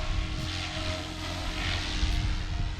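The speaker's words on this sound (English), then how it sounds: "we have a 380 size heli." A SAB Goblin 380 size RC helicopter flies with a continuous buzzing whine of motor and rotor, steady and fairly close, swelling slightly at moments.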